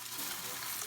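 A big beef pot roast searing in a Dutch oven, giving a loud, close, continuous hiss of sizzling fat across the whole brief moment.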